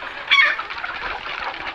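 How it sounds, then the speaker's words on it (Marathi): Hens clucking and murmuring close by while feeding, a busy overlapping flock sound with a brief louder squawk near the start. "तर आत्ता आपण कोंबड्यांना खायला घातलेलं आहे तुम्ही बघू शकता आपल्या कोंबड्या खातात"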